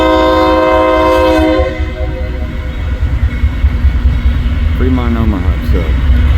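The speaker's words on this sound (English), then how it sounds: "here comes the eastbound manifest on the Fremont" Eastbound freight manifest train on the Fremont Omaha sub at Fremont, its horn sounding loudly at first, then the heavy rumble and clatter of the cars rolling past close by, with a brief squeal near the end.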